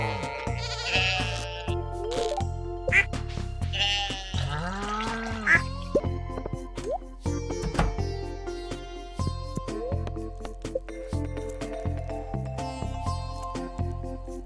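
Several goat bleats from the farm animals in Stardew Valley Expanded ring out over light plinking game music, short wavering cries repeated through the first half, fairly quiet.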